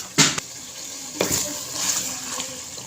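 Water poured into a pan of potato bhujia as it cooks, two quick splashing pours followed by a softer trickle and sizzling wash, close and moderately loud.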